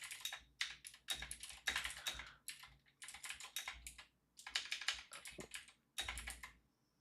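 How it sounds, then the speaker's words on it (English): Fast typing on a computer keyboard, close by, in bursts of clicking keystrokes separated by short pauses. "Why am I typing?"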